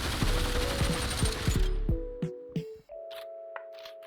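An MP5 submachine gun fires one-handed in the VR game Population ONE, a rapid automatic burst of close shots for about two seconds, then a few separate shots and ringing game tones.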